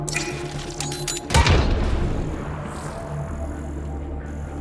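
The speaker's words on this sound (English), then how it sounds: "That's one generator down." A generator explodes in the video game Mass Effect Andromeda with a sudden heavy boom that rolls into a long rumbling decay over a steady background drone.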